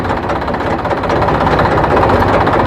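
A Massey tractor engine runs steadily with the PTO in gear, a loud, even mechanical drone with a rapid knocking rhythm, heard up close and without talk.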